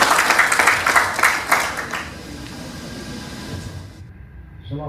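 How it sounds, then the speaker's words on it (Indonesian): A seminar audience applauds to welcome a speaker at a national conference on the fossil energy crisis, brisk clapping that is loud for about two seconds, then fades to a low hum of room noise. "dengan tepukan yang gemuruh"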